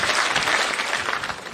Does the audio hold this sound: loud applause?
yes